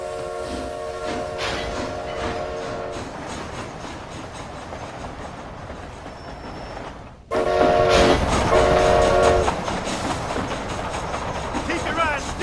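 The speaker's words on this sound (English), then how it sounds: "This train headed for Mexico?" Train running through the Red Dead Redemption Undead Nightmare game world, a steady rolling rumble with clattering wheels and a harmonic horn-like tone sounding twice, growing louder midway, under bursts of speech.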